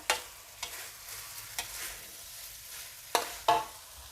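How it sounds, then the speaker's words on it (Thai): Shrimp stir-fried in a pan give a quiet, steady sizzle, broken by a few sharp spatula scrapes and clinks, the loudest two near the end, heard up close without talk. "ใส่กุ้งลงไปผัดนะคะ"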